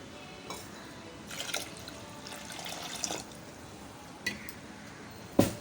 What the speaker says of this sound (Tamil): நான் ஒரு ரெண்டு கப் விட்டுட்டு எக்ஸ்ட்ராவாக வந்து அந்த தேங்காய் தண்ணியையும் வந்து நான் ஆட் பண்ணிக்கிறேன்